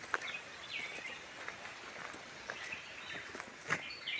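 Outdoors beside a village river with wells, scattered bird chirps and short calls ring out at moderate distance over a quiet background, with faint footstep-like thuds in between.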